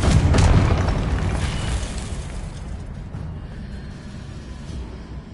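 A Confringo blasting spell detonates in Hogwarts Legacy, a loud booming explosion at the start that rolls into a long rumbling decay fading over several seconds.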